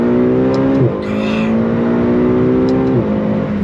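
A 2021 McLaren GT supercar accelerates hard on throttle from inside the cabin, its engine note climbing steadily and loud, with two quick gearshift dips before the revs rise again.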